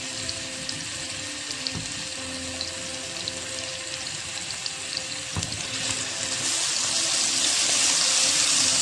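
Ground spice paste sautés in a small amount of oil in a pan, giving a continuous close sizzle with faint stirring scrapes. The hiss swells louder and brighter near the end, and no one speaks.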